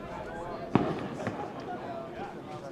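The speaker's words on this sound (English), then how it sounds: "So he'll continue shooting off fireworks on the 6th of July." Fireworks go off near an American Legion baseball game. One sharp pop comes first, then a softer crack, under steady crowd murmur and a commentator talking.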